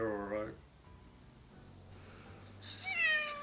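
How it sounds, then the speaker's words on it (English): A Metacat robotic companion cat gives a clear meow, then a low, soft purr, then a second meow, all close and fairly quiet in a calm indoor setting. "Are you purring again?"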